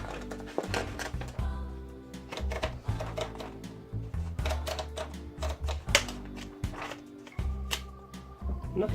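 A 1960s Smith Corona Corsair Deluxe typewriter is loaded with printer paper: loud, irregular mechanical clicks, ratchets and clunks from the platen and carriage, close up with no speech.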